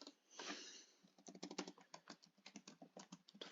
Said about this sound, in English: So let's just type that down.